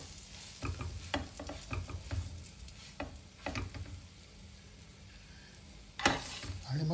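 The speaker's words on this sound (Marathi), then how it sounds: "हे दुसऱ्या याचे बन जे आहे त्याची मधली बाजू आधी भाजून घेतली" A bun toasting on a pan for masala bun: a gentle sizzle with intermittent scraping and tapping of a spatula, fairly quiet, ending in a louder scrape near the end.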